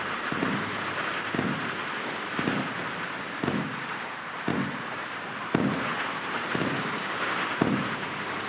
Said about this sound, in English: We now have more missiles coming in on this unknown hostile target in the rear.